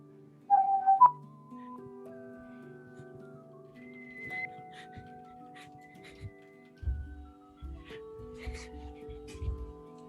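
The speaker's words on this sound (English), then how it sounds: "I can whistle." Someone whistles a wandering tune in sustained and short notes, fairly close and clear, amid scattered light knocks and brief low thumps with a quiet background.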